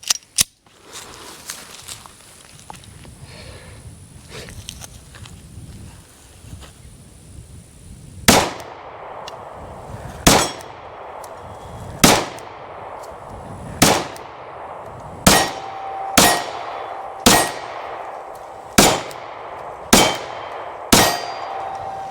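A Glock 48 MOS pistol fires 124 grain rounds: about ten sharp, loud shots with metallic ringing, the first few spaced out, then quicker, fairly regular shots after an earlier stretch of quiet handling noise.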